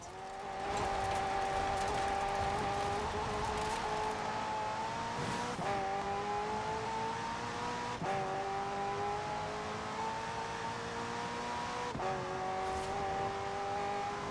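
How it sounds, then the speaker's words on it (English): A McLaren twin-turbo V8 hybrid car drives in Forza Horizon 4, its engine droning loudly and steadily as it climbs through gears, with brief dips at each shift. "The car's blistering performance is delivered by a twin-turbo V8, supplemented by a McLaren ECU electric motor and instant power assist system"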